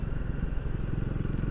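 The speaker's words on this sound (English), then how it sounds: "On this I can just hear the exhaust note, so I hope you can too." A Triumph Speed 400 motorcycle on the move, its exhaust note a steady low burble mixed with engine and intake roar and wind, continuous and fairly loud throughout.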